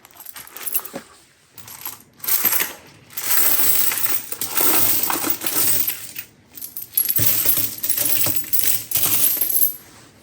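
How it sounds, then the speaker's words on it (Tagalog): Coins poured, dropped and sorted into piles of matching kinds, a busy run of metallic clinks and jingles with brief pauses between handfuls, close and fairly loud, no talking. "May natutuhan ako sa pagsosort ng barya."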